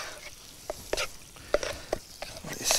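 Food stirred in a pan over an outdoor fire during forest bushcraft cooking of the Adjarian dish sinori: soft scraping strokes and light taps of a utensil over a faint sizzle, quiet and close.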